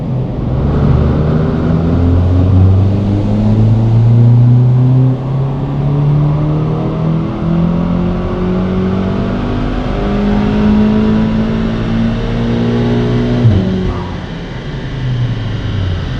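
Tuned Stage 3 non-GPF car engine revving hard through repeated pulls on a dyno power run, a loud continuous roar with rising and falling pitch, briefly dropping near the end before climbing again.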